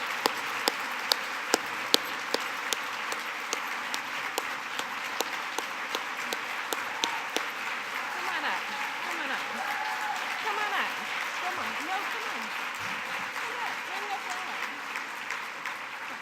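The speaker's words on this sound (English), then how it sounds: "please stand up so that we can give you another round of applause" A conference plenary audience applauds in a large hall, a sustained, even wash of clapping with a few sharp nearby claps, while a voice speaks over it.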